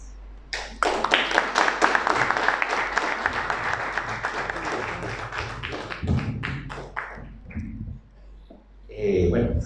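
An audience applauds at a book presentation, a dense burst of clapping that builds and then thins into scattered claps, with voices speaking over the tail.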